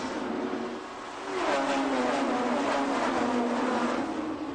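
On-board USAC midget race car driven by Bobby Santos III at the Milwaukee Mile in 2006, its engine droning loudly and steadily at high revs, dipping briefly then surging back to a sustained, rising whine.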